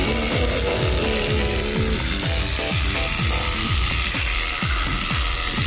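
An electric clipper buzzes steadily while shaving a camel's hair, with repeated rhythmic rasping strokes and mechanical chatter throughout, close and loud.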